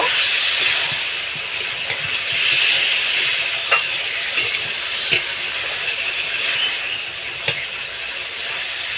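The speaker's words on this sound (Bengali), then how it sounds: "এখানে আমি আদা রসুনের পেস্ট দেব দু চামচ দিয়ে আর একটু নাড়িয়ে নেব" Ginger garlic paste fries in a pan for chicken curry while being stirred, giving a steady hiss and sizzle broken by several sharp clicks and scrapes of the spoon.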